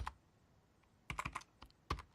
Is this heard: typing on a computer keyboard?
yes